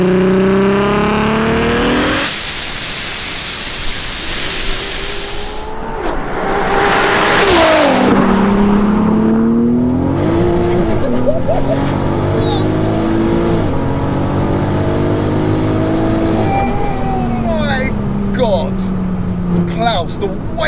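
An 1187bhp VW Golf R accelerates hard, its engine note climbing and shifting through loud revving sweeps, while people talk inside the car.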